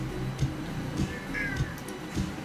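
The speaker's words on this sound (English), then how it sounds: "You need to stop, cat." Pet cat meowing indoors, a faint short meow rising over a low background rumble with soft rhythmic thumps, no clear talk.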